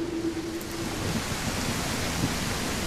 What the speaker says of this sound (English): there is a storm coming